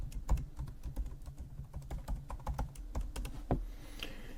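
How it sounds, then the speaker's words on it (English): Keys clatter at a steady, brisk pace on a computer keyboard as a username and password are entered, close and clear with no voice. "I'm going to just type in a username and password just to show you it is working."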